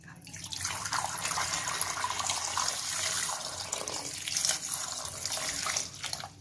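Water poured steadily into a pan over pieces of raw banana, a continuous close splashing pour lasting several seconds before stopping, with no talk.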